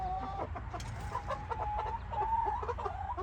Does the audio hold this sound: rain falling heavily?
no